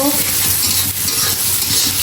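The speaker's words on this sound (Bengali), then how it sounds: "পেঁয়াজটা একটু হালকা লাল করে ভেজে নিব" Sliced onions fry in a little oil in a large wok-like karai, the start of a dried-fish curry, giving a steady, close, loud hiss of sizzling with soft scraping as they are stirred, and no talking over it.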